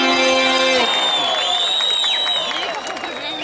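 Concert audience cheers, whistles and claps after a sustained musical note ends, with whoops and shouting rising over the crowd noise.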